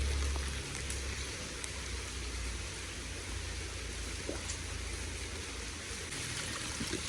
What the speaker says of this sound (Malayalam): ഈ വെള്ളം നേരെ കണ്ടിട്ട് ഒഴുകി പോണേ